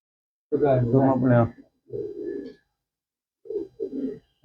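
Pigeons in a pigeon loft coo nearby. Three separate low, throaty coos come with short gaps between them, over a quiet background.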